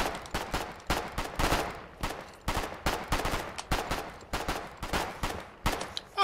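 An enemy firing line opens up in Foxhole, with rapid, repeated rifle and machine-gun shots cracking in irregular clusters at mid distance. There is no talk over the steady volley.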